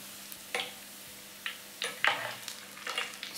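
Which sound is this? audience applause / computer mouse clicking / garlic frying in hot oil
garlic frying in hot oil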